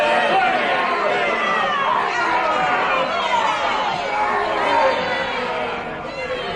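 A hostile crowd chatters in a courtroom, a dense continuous murmur of many overlapping voices that stays loud and steady throughout, dipping slightly at the end.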